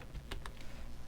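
Several quick keystrokes on a computer keyboard, a short burst of a few distinct clicks, faint and close, with no voices.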